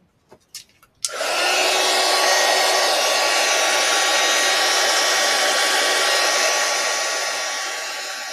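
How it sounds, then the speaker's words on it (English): A heat gun switches on after a couple of faint clicks and blows hot air in a loud, steady roar that trails off slightly toward the end, with no talking over it. "I'm going to grab the heat gun."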